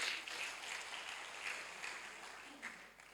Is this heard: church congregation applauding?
yes